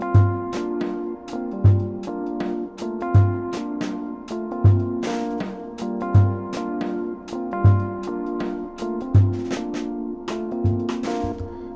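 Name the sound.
sampled drum groove playing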